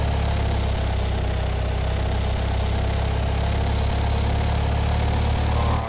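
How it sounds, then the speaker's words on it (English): A two-cylinder Maluch car engine in Car Mechanic Simulator 2015 idles steadily, a loud, low, rumbling drone that holds constant throughout without any talk over it. "Ooh, that sound. Yeah, what do you expect from a two-cylinder engine?"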